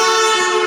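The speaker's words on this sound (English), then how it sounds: "That's you, and a car drives past you very fast. As it does so, it honks its horn," A car horn blares in one sustained, loud, steady tone as the car drives past very fast, a single held honk with no pause.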